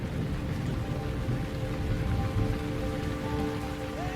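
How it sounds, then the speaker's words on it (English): Heavy rain pours steadily in a violent storm out on the open plains, a dense constant wash of drops with low rumbling underneath, no voices. "The storms in Lure are always violent and unsettling for us."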